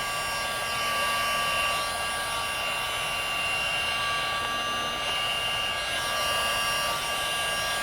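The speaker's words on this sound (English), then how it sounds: "The heat gun is great so that you can keep your paints wet while you're using them." A heat gun blows hot air over encaustic paints, a steady broadband whooshing hiss with a faint whine that holds constant and close throughout, with no talking.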